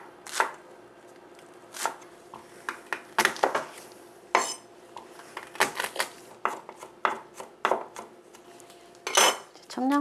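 Green onion being chopped with a knife on a cutting board to make a seasoning sauce for acorn jelly, giving a dozen or so sharp, irregular knife strikes, close and crisp, with no talk.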